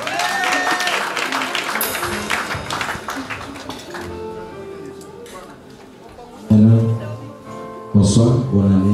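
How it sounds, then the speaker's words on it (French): Church dinner audience applauds and cheers loudly at first, dense clapping that thins out, followed by music swelling in with sustained tones. "Vous allez acclamer, s'il vous plaît."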